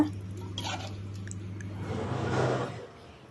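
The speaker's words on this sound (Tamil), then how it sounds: "தண்ணி நல்லா கொதித்து வரட்டுங்க." Water heating toward a boil in a cooking pot with salt added, a soft hissing, bubbling wash that swells near the end and then eases, quiet and close with no talk.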